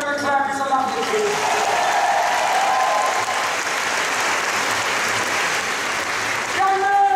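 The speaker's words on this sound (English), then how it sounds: "Give it a clap, it's a lovely thing." Sustained audience applause at a comedy show at a live expo event, loud and continuous, with a voice speaking over the start and end of the clapping.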